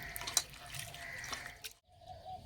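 Flattened rice (chira) washed by hand in a bowl of water, with close splashing and sloshing that stops abruptly near the end, then faint handling noise.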